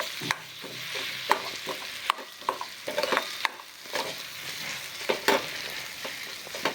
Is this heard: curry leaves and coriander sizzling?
yes